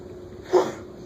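One brief, muffled sneeze in a lecture room, a single short burst that stands out from quiet background noise.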